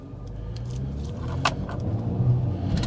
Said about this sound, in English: this is the first drive in the BMW